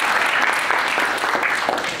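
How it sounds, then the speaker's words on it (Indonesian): Dense, steady clapping from a room of students at a public speaking training session, a continuous close burst of applause with no talk over it. "Tepuk tangan."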